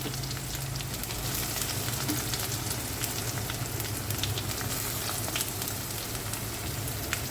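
Onion and garlic frying in a pan after bay leaves, giving a steady, dense sizzle with a fine crackle that holds evenly for the whole stretch. No one speaks over it.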